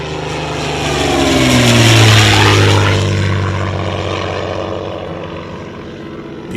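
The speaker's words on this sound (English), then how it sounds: "The best combat airplanes America could offer in the 1940s" WWII-era American propeller combat airplanes flying past, a loud droning engine roar that swells to a peak and then slowly fades as the aircraft move away, with no talk.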